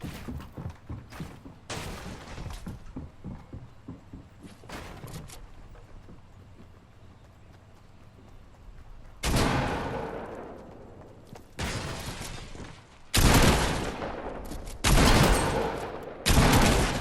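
SMG fire in the video game Fortnite: scattered bursts of rapid shots, quieter clatter early on, then several loud, sustained bursts in the second half separated by brief pauses.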